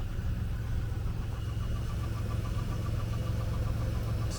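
A car engine idles with a steady, even low hum, close and unchanging throughout, with no talk.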